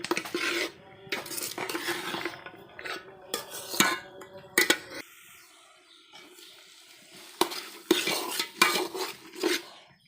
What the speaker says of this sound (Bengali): খিচুড়ি রান্না করলে যত নাড়বেন তত টেস্ট।